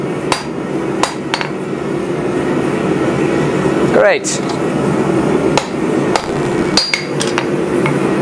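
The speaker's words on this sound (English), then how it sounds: "let's hammer it away from myself, though" A blacksmith forging metal with a hammer, sharp ringing blows striking at irregular intervals over a steady workshop hum, close and loud, with a brief spoken word between strikes.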